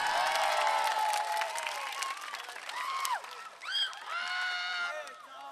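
Concert audience for a singer applauds and cheers, a bright wash of clapping that fades as tonal vocal sounds and voices rise over it.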